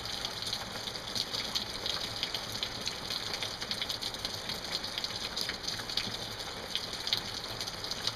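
Rain taps and patters steadily on a surface, close and even, with dense crisp drops and a soft watery wash underneath, no voices.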